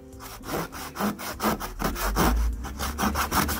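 Hand saw cutting through a wooden dowel, with steady rhythmic back-and-forth strokes rasping close and loud, roughly three strokes per second, and no speech.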